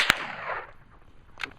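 A single sharp gunshot cracks out at an outdoor shooting range, followed by a decaying echo and a fainter second report about a second and a half later.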